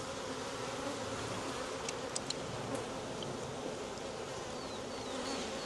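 Honey bees buzz steadily around hive frames during a hive inspection, a dense, continuous droning swarm close by with no talk.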